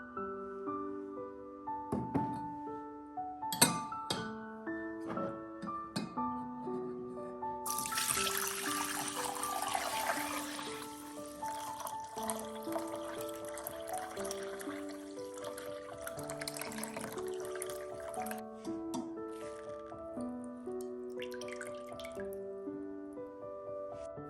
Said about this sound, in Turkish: Şimdi bu gübreyi süzeceğim.